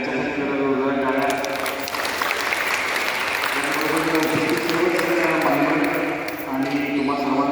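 Audience applause at a Rotary Club fitness event in Kolhapur, sustained loud clapping from a large crowd lasting several seconds, with voices audible underneath.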